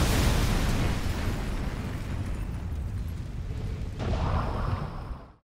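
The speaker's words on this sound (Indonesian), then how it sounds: "Hal ini memicu bom yang sudah terpasang dan akhirnya boom." A planted bomb blows up a car in a film scene: a loud, sustained explosive roar with a second swell of rumble near the end before cutting abruptly to silence.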